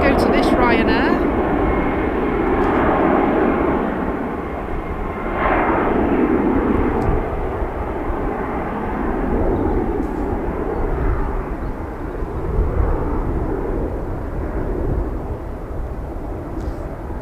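A Ryanair airliner at Manchester Airport makes a rumbling, swelling jet engine roar at moderate distance, with someone talking intermittently over it.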